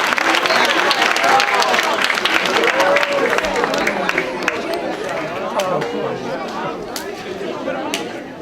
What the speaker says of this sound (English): Let's give a big round of applause to all our first graders.